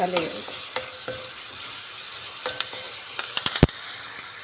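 Fish pulusu is stirred in a pan with chili powder, salt and cumin powder, giving a steady sizzle with occasional sharp spoon clicks against the vessel.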